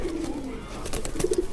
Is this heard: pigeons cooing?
yes